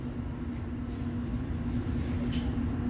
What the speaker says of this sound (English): This is a District Line train to Ealing Broadway.